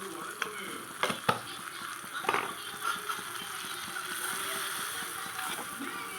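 Chilli powder being stirred into butter paneer masala gravy in a pan, a soft rhythmic scraping with steady sizzling, plus a few sharper knocks of the spoon early on.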